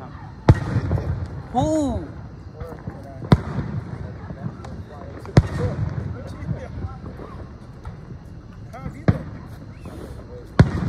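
Fireworks set off outdoors: sharp, loud bangs pop at irregular intervals among crackles and fizzing launches, while people talk and exclaim over them.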